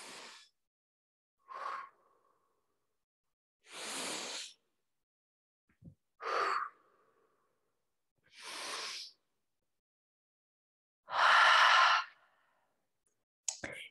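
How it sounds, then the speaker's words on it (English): Deep, slow yoga breaths, with long, airy inhales and exhales alternating in separate bursts across roughly fourteen seconds, close and clear in a quiet room. "Take 3 rounds of breath."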